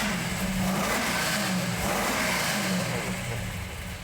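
A Chevrolet Bel Air bracket-race car engine with new exhaust runs loud and steady, a throbbing roar that holds throughout and eases slightly at the end.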